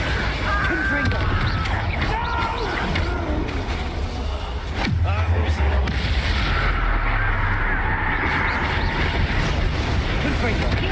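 Confringo fire-blast spells from the Hogwarts Legacy video game burst in loud, booming explosions amid a dense battle din, with a heavy low thump near the middle standing out over constant noisy background.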